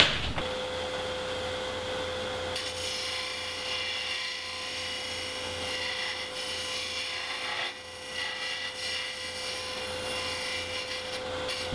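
A Lyle Jamieson hollowing system cutter scrapes out the inside of a wooden piece spinning on a lathe. A steady rasping, grinding cut runs over the constant whine of the motor, close and continuous.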